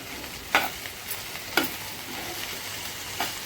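Okra with onion and spices fries in a pan, giving a steady low sizzle with a few sharp scrapes of a spatula at irregular intervals, close by and fairly quiet.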